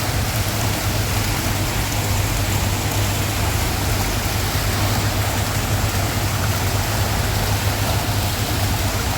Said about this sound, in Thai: อันนี้จะเป็นน้ำพุครับผม